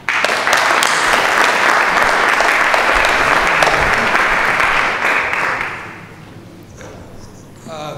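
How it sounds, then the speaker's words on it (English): Audience applause for the chairman of a Food Festival, loud, dense clapping for about six seconds that then tapers off to quiet room sound. "give a big round of applause to Nigel, chairman of the Food Festival"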